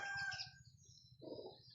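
A red junglefowl (labuyo) rooster crows once, short and faint, heard from a distance.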